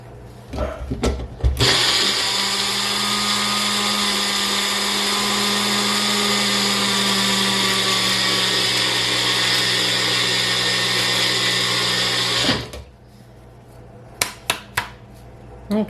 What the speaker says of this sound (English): let me just try putting some of this through my magic bullet right now